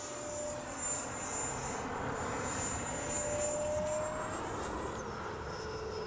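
A Freewing 64mm F-22 V2 RC jet flying in wind with no gyro, a steady whining ducted-fan hiss passing at a moderate distance, with rising and falling whistling tones throughout.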